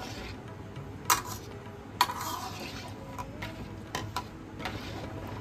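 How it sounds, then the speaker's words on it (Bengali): Rice in water in a pot being gently stirred for pulao, with soft sporadic clinks of a spoon against the pot and light scraping over a quiet background. "হালকা হাতে নাড়াচাড়া করে দিচ্ছি"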